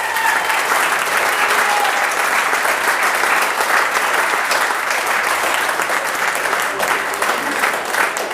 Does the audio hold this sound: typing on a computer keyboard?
no